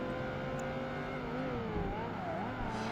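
Several supercar engines race at high revs in Project Gotham Racing 2, a steady loud drone with rising and falling pitch as gears shift, with a faint squeal of tyres near a corner.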